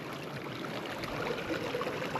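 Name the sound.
water squeezed from a bag through a pre-filter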